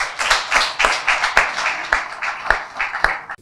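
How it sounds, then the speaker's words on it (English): A round of applause at the 2024 launch event of a national youth investment and education program, a small crowd clapping loudly and unevenly, with a few sharp individual claps standing out before it cuts off abruptly. "A round of applause again."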